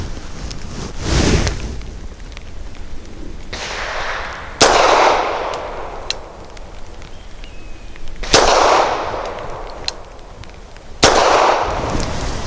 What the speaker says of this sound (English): last but not least is the PPU Subsonic in 158 grain